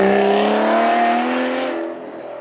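A naturally aspirated V12 supercar accelerates hard on a hill-climb track at a supercar event, its loud, high, rising engine wail sustained before the tone drops and fades as it moves away.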